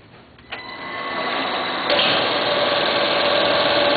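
A Duplo DC10000S twin tower collator feeding a DBM200 bookletmaker runs steadily, a dense mechanical hum that starts with a thump and settles into a constant whirring drone, growing fuller after a couple of seconds.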